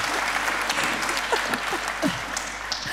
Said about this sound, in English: Round of applause for the high maintenance.